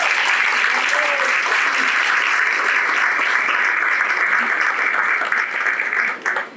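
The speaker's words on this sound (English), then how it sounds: "So can we give him a round of applause?" A crowd at a community event applauds loudly and continuously for several seconds, the clapping tapering off at the very end.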